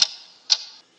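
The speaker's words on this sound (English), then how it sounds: "What is that mysterious ticking noise?" Sharp, bright ticks recurring about every half second, each followed by a brief fading ring, three clear strikes close and alone with no talk.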